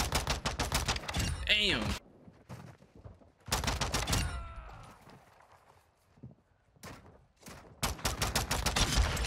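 Rapid bursts of pistol gunshots ring out in a modded John Wick-style video game, sharp and close in quick rhythmic strings separated by brief pauses, with a voice briefly exclaiming between volleys.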